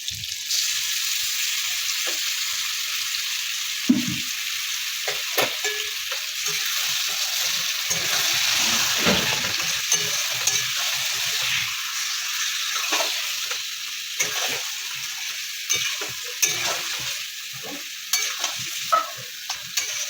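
Chicken pieces frying in a pan with ginger garlic paste, a steady close sizzle running throughout while a utensil stirs and scrapes in uneven bursts, no talking.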